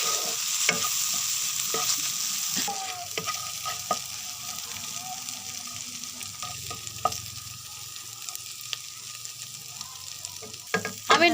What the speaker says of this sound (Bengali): টমেটো সসটা ভালোভাবে মিশিয়ে নেব।